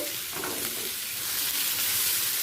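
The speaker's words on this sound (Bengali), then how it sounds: "একই সাথে দিয়ে দেব ভেজে রাখা পনির পনির আলু পটল সব একসাথে" Fried paneer, potato and pointed gourd being stirred in a hot pan, a steady loud sizzle with continuous scraping and stirring throughout, no voices.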